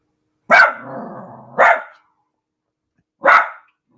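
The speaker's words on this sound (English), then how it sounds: "Barking at something." A dog barks three times nearby, the first bark trailing into a brief growl, with a pause before the last bark.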